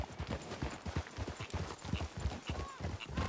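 A group of horses walks at close range, their hooves clip-clopping in a quick, uneven patter of overlapping hoofbeats.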